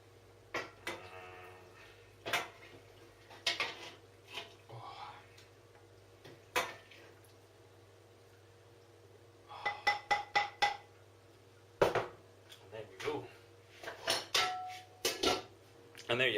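Stew scooped into a big bowl with a wooden spoon: scattered clinks and knocks of utensil against crockery, quiet and close, with a steady low hum in the background.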